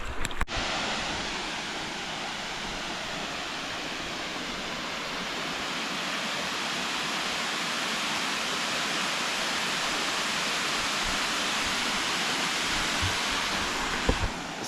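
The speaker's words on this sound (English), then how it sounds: "So that's the waterfalls we've got here from a distance." Stevensons Falls waterfall roars steadily from a distance, a constant broad rushing wash of falling water that holds even throughout.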